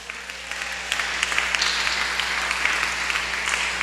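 Church congregation applauding during a Filipino-English sermon on true repentance; steady dense clapping fills the clip at moderate volume, with no talk over it.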